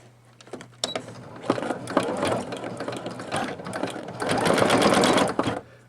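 A Singer Futura XL550 sewing machine auto-embroidering with Sulky metallic thread through a size 16 needle, giving a close, steady mechanical whir and rapid ratcheting clatter that swells louder toward the end before stopping.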